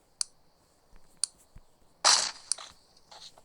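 A creeper explodes in a blocky sandbox video game: one sudden, crunchy blast lasting about half a second, surrounded by sharp, faint clicks.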